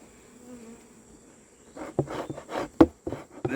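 Honeybees buzz at a hive, first a faint drone and then louder, closer, irregular passes of buzzing insects in the last couple of seconds, with no voices.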